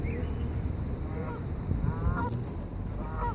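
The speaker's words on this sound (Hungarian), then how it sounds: "az összes madarak ide szálltak" Many geese and ducks honk and call together on a lake, a dense continuous chorus of overlapping honks at close range with no clear gaps.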